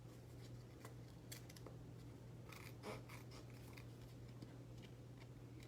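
Soft, irregular scissor snipping and crisp paper rustles as patterned card paper is trimmed, fairly quiet, over a steady low hum, with a few clustered cuts in the middle.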